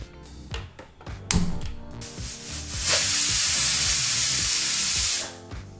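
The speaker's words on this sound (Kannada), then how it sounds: "ಈಗಲೇ ಕುಕ್ಕರು ಒಂದು ವಿಸಲ್ ಬಂದಾಯಿತು" A pressure cooker cooking green gram usli lets out a single loud, sustained whistle of hissing steam lasting about two seconds, preceded by quieter kitchen clatter and a faint tone.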